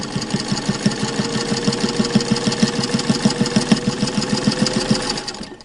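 A sewing machine stitches through four layers of muslin, running steadily in a fast, even rhythm of needle strokes with a motor hum underneath, close and continuous before slowing to a stop at the end.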